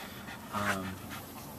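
Woody, a dog-aggressive Border dog being put into a car near other dogs, pants and whimpers in a brief agitated burst, close and fairly loud, with steady background noise around it.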